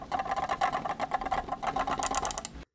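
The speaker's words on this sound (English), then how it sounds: "When shaking it, you only hear the scroll wheel." The scroll wheel of an XM1 wired gaming mouse rattles as the mouse is shaken, giving a quick, steady, close clatter for under three seconds.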